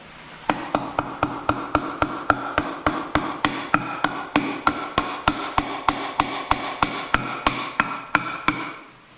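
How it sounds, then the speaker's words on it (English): Sharp, evenly spaced hammer blows, about two per second for roughly eight seconds, strike a block of wood to drive pistons into a 1930 Ford Model A engine block, each hit loud, close and ringing briefly. "take our block of wood and just kind of hammer this in place"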